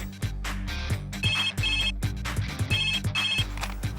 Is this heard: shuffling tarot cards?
no